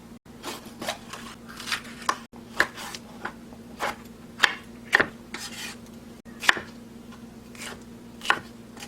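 A knife chops vegetables such as onion and paprika on a cutting board for a button mushroom stir-fry, with sharp, irregular taps in small bursts, close and fairly quiet over a steady low hum.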